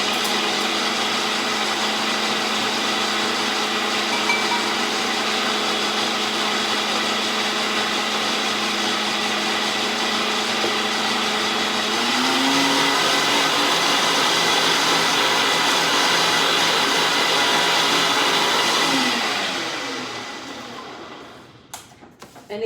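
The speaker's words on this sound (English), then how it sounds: "you can hear the blender kind of change speeds and whatnot" A kitchen blender whirs loud and close for a cooking workshop, holding a steady roar and shifting pitch partway through as its speed changes, then winding down near the end.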